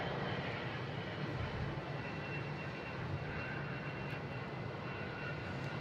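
Delta Embraer E175 regional jet taking off at Boston Logan, bound for Kansas City: a steady, broad jet-engine roar holding at moderate loudness throughout, somewhat distant, with no voices.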